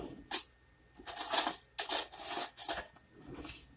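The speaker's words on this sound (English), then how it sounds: "let's get us a spoon" A metal spoon is picked up in a kitchen while pork steak is prepared, clinking and rattling against other cutlery in several short bright bursts close by.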